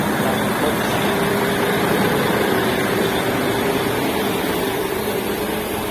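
Bus engine droning steadily during a road trip toward Antalya, a constant low rumble with road and cabin noise and no talk.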